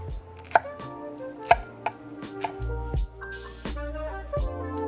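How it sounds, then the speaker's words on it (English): A knife slices okra thinly on a cutting board, producing a series of sharp, irregular taps and thuds up close. Some low rumbling and tonal background noise sits underneath. "you wanna cut them a little bit on the thin side"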